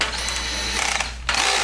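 A power drill whirring as it spins cleaning rods inside a dryer vent, a steady close motor whine broken by a brief dip before it revs back up, no talk.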